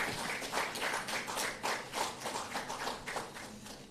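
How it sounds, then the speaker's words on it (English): Audience at a signing ceremony for highway feasibility studies clapping, a faint, distant patter of hands lasting a few seconds with soft uneven rhythm. "I really want you to clap"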